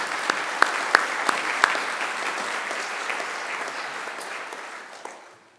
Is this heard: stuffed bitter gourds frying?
no